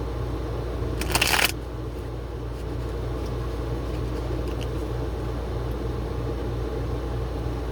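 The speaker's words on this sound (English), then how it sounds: "I shuffle 3 times typically." A quick burst of tarot card shuffling lasts under half a second, standing out briefly over a steady low hum and rumble.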